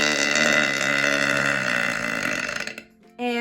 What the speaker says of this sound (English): this helps me burp a little bit